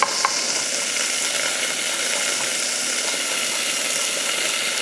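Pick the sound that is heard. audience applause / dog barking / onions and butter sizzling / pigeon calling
onions and butter sizzling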